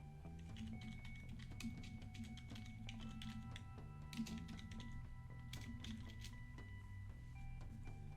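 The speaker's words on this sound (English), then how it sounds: "So I'm gonna type the name." Computer keyboard keys tapped steadily while a name is entered, soft close clicks sitting over a constant low hum and faint background music-like tones.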